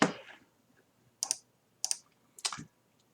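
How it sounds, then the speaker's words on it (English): Control and Page Up/Down keys pressed on a computer keyboard while navigating an Excel spreadsheet: four crisp, separate clicks close to the microphone, with quiet gaps between them. "you can just hit Control and the page up or page down"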